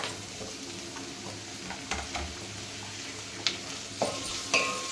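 Onion and tomato frying for a radish sambar, a quiet continuous sizzle with scattered spoon scrapes and light metallic taps against the pan, close by and without voices.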